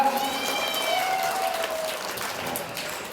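An evening village gathering in northern Thailand claps to welcome the village headman, a continuous wash of applause at moderate volume with faint tonal sounds drifting over it.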